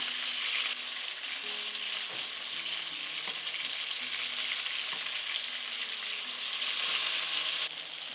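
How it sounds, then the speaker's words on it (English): Chicken pieces brown in a hot pan for a Kenyan chicken, potato and onion dish, giving a constant close sizzling hiss with a few faint clinks of the pieces being turned, and no voices. "Give this chicken a turn once it's browned and just continue until all the sides are nicely browned."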